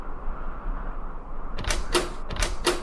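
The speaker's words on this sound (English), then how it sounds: "The door's locked." Locked castle door in a children's fairy-tale cartoon: a few sharp clattering rattles of the handle in quick succession, loud and close, after a low rumbling background.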